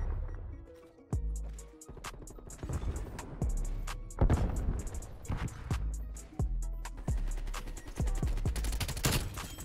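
A sentry gun firing in the Call of Duty Cold War video game: a string of sharp, close shots in irregular bursts, each crack ringing out briefly against a quiet background.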